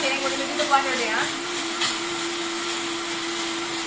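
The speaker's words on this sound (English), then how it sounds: "We're going to blend that up." A countertop blender whirs through a creamy Caesar salad dressing, a loud steady motor roar that settles into an even drone after a brief rising start.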